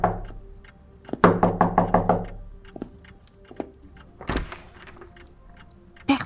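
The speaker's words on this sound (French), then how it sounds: "entend frapper à sa porte" Knocking at the door of a cottage in Heathsville, New York, on a night in 1847: a quick run of about six knocks, fairly close, then a few isolated thumps and one heavier bang in a quiet room.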